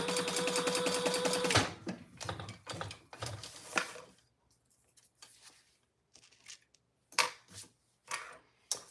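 A sewing machine stitches across the bottom of a trifold wallet in a loud, rapid mechanical burst that stops after about a second and a half, followed by scattered clicks, handling noises and faint rustling.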